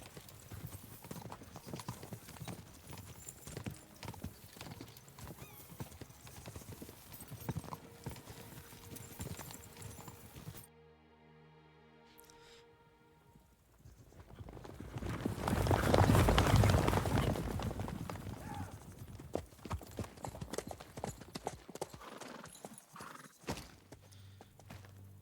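Horse hooves clip-clopping steadily in the video game Kingdom Come: Deliverance II, a continuous close trot that drops out briefly and then returns with louder ambient rumble and a whinny.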